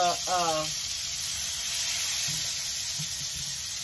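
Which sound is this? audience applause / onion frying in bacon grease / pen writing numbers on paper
onion frying in bacon grease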